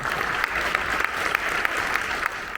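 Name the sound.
audience applause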